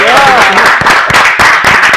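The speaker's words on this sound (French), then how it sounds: "On s'applaudit." An audience applauds at a televised evening event, dense clapping mixed with voices and chatter, loud and close throughout the short burst.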